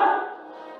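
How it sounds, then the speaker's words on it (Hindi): A dog gives a single loud bark in a drama web-series scene. The bark starts sharply and then fades over less than a second, heard on its own. "मुले कुत्ते पे काबू रखो"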